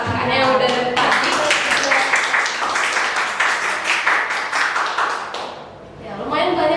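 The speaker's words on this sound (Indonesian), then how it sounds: "gimana kalau kita kasih tepuk tangan untuk kakak-kakaknya yang udah dari tadi?" Audience clapping for guests on a hotel-industry job-training podcast, a steady burst of applause running several seconds, dipping briefly near the end as voices come back in.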